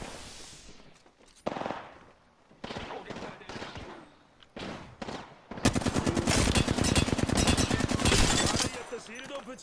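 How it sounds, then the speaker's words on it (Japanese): Rapid automatic gunfire in the battle royale game Apex Legends, loud and dense bursts with scattered single shots early, then a sustained heavy barrage for several seconds, with players talking intermittently. "俺を撃ってるのか"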